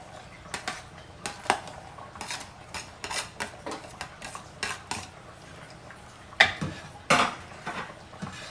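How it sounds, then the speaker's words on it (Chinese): A utensil stirs grouper seafood porridge in a clay pot, with irregular clinks and scrapes against the pot over a quiet background, two louder knocks near the end. "然后搅拌一下均匀"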